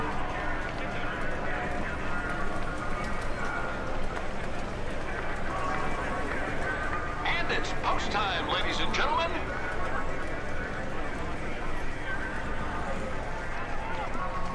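Galloping hooves from a digital horse racing game pound in a fast, continuous rhythm beneath an excited race announcer calling the action, with crowd-like noise throughout.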